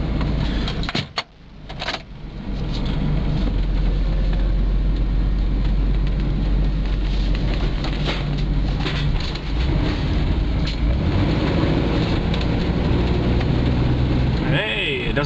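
A Safari vehicle engine, freshly fitted with a replacement fuel pump, starts and runs steadily and loudly on a test drive, a continuous deep rumble with road and wind noise and no pause.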